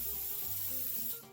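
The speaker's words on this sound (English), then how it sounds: "after we spray the pan." Cooking spray hissing onto a cake pan for a chocolate cake, one steady close spray burst lasting just over a second before tapering off.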